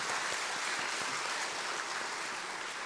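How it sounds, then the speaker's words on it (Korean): A church congregation claps in thanks for its praise team and choir, a dense, even patter of many hands at moderate volume lasting a few seconds. "우리 감사와 격려의 박수 하겠습니다"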